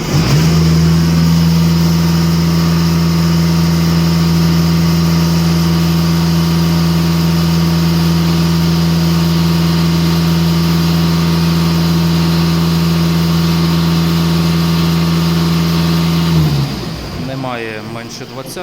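A diesel Volkswagen Passat engine, warmed up, idles steadily and loudly for a long stretch, then drops away as it winds down near the end.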